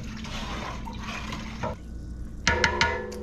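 Water sloshes and swirls as it is stirred in a pot for a crab cook, a steady wet churning followed by a few sharp clinks of a utensil against the pot near the end.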